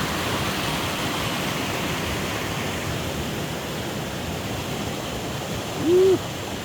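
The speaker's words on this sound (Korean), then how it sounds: "강물이 너무너무 맑게 아주 그냥 힘차게 흘러가고 있습니다" Strong, steady roar of a clear mountain-valley river rushing in autumn rain fills the scene without a break; a brief low hoot-like tone sounds near the end.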